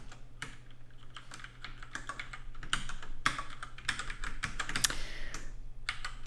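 Rapid typing on a computer keyboard during C++ coding, close and fairly loud, with irregular bursts of clacking keys over a low steady hum and no speech.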